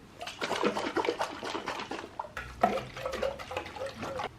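A closed jar of water cocktail for a cat's party is shaken, giving a continuous sloshing, splashing liquid sound throughout, close and moderately loud, with no talk.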